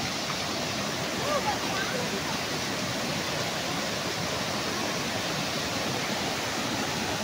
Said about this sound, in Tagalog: medyo malakas yung alon kasi maulan ngayon mga guys